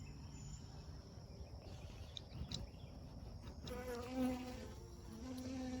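Honeybees swarm around an opened hive, a faint steady buzzing hum close by with rising tones of individual bees flying near, while a person works quietly.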